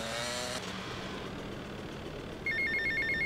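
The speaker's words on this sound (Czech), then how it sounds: "A, telefon, tak uděláme si telefon." A telephone rings in GTA Vice City with a repeating electronic trill over steady engine and traffic noise from the game, with no talking.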